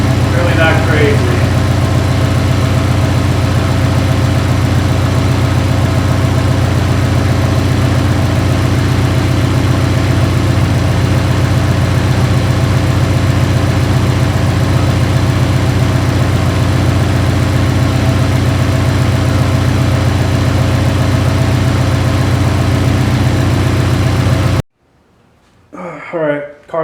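A Subaru STI engine idles steadily for about 25 seconds with a loud, constant low rumble, then cuts off abruptly, leaving near silence with a few faint noises.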